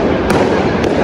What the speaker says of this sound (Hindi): पटाखे लगा रहे हैं, कुछ ने चलाने भी शुरू कर दिए